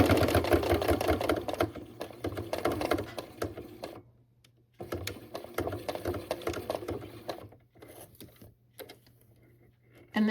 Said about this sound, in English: sew down both sides of our bias tape for our little loop handle